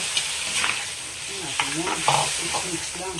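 Crab, squid and vegetables stirred in a sizzling pan with oyster sauce, steady frying hiss with scraping spoon strokes and clacks against the pan, close and loud.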